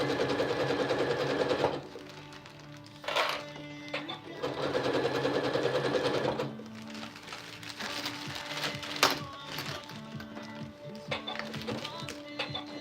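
A sewing machine stitches a zigzag seam on a clear storage bag, running in bursts of steady whirring broken by short pauses, with faint talking between runs.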